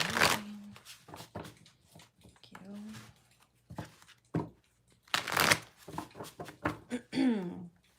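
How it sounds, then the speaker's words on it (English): A tarot deck handled and shuffled in short, crisp papery bursts between pauses, while a person talks intermittently over the card sounds. "so both my decks are shuffled"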